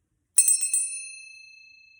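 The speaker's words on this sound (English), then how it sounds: "Please clean the air and the energy and provide healing with this bell" A meditation bell for a healing ritual is struck about four quick times in a row, then its bright metallic tone rings on and slowly fades, clear and alone in silence.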